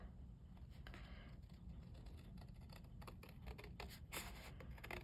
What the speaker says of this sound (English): I will just hand cut that off